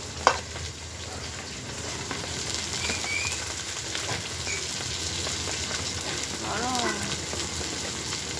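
Katla fish and potatoes fry in a pan for a household celebration, a steady crackling sizzle running throughout with occasional louder pops and faint voices in the background.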